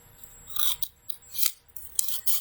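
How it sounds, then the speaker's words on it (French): Scissors snip through overlapping paper strips in a few close, crisp cuts, each a short bright rasping slice with small gaps between, and no talking. "Vous mettez les ciseaux à l'intérieur et puis vous les découpez."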